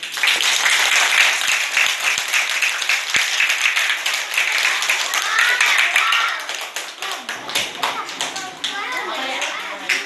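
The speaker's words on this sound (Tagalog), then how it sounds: "Bigyan natin ng masigabong palakpakan si Ginang Annabel Divisona." Applause fills a school gathering of teachers and children, a steady dense clatter of many hands clapping throughout, thinning slightly toward the end, with chatter in the background.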